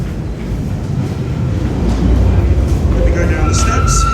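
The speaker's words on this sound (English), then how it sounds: "So the train is underneath us right now." A London Underground Bakerloo line train rumbling beneath Piccadilly Circus station, a loud, deep, continuous roar building slightly over a few seconds, with faint higher whines near the end and a voice speaking over it.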